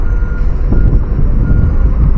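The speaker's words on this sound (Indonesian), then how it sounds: "Mobil-mobil alat berat juga sudah beroperasi semua di sini" Heavy construction vehicles operate at a toll road building site, giving a loud, steady rumble of engines under a continuous high reversing beep, with no talk.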